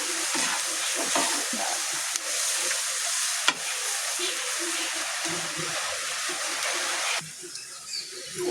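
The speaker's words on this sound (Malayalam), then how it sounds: "ഉള്ളി നല്ലപോലെ വഴന്നിട്ടുണ്ട്" Onions sautéing in a pan, a steady sizzle with intermittent scraping and stirring, one sharp knock of a utensil, and quieter tail as the heat drops, with faint talk underneath.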